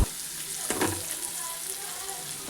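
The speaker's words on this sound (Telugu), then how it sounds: "ఫస్ట్ పొటాటో, క్యారెట్ ఫ్రై చేయండి." Potato and carrot pieces frying in hot oil for Maggi noodles give a steady close sizzle with a brief louder stirring scrape near the start, with no voices.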